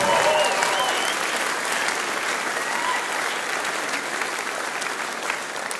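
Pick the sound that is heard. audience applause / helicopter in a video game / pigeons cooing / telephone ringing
audience applause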